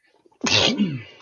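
A single sharp sneeze bursts out after a faint breathy intake, loud and close, then trails off briefly with no talk over it.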